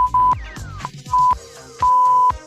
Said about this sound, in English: we got beeps here to let you know that we're starting back up in 5